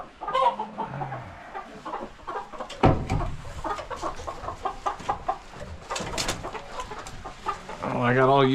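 Chickens clucking inside a farm barn during cleaning day, a busy mix of close clucks and squawks with a louder burst near the end, while someone talks over them.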